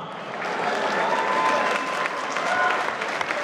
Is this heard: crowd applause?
yes